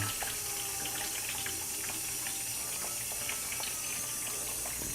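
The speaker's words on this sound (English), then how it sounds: "I guess you like dump water in this." Water pouring steadily into a container, a continuous close splashing gush with faint trickling detail, no voices over it.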